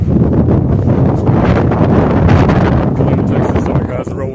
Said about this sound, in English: Sorry guys, it's real windy